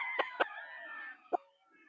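A Sweater Roundhead cross gamecock crowing at a game farm, one short, clear nearby crow with a few sharp clicks or knocks over it, then quiet.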